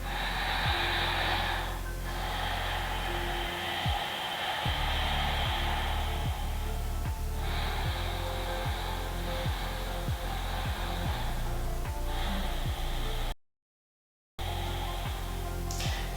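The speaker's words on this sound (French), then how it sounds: "une respiration qui se fait peut-être un peu plus bruyante, ce qu'on appelle notamment en yoga Ujjayi, la respiration de l'océan" Ujjayi yoga ocean breath, drawn loud and deliberate through the throat: several long, rasping breaths follow one another close up in a slow rhythm, briefly broken by a short silence.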